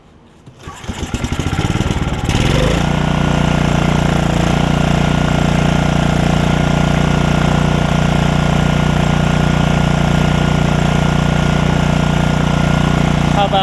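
A Generac generator with a Briggs & Stratton Vanguard engine is pull-started and catches on the first pull, then settles into a loud, steady, even running drone that holds for the rest of the clip.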